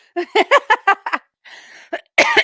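A woman in an office coughs in a quick string of harsh bursts, a pause, then a few more coughs close to the microphone.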